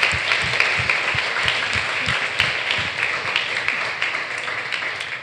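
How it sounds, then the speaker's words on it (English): Audience at a Women in Sales evening event applauds its two speakers, a steady wash of many hands clapping with a few sharper near claps, holding fairly even before easing slightly toward the end. "We want to just give a round of applause for our speakers"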